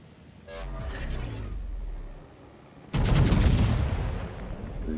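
Naval gunfire from battleships in World of Warships, including the Pommern: two loud, booming salvos a few seconds apart, each a sharp blast trailing into a rumbling roar over steady ambient engine noise.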